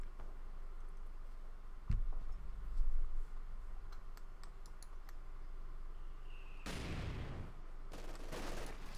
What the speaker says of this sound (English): caught between 2 light machine gun teams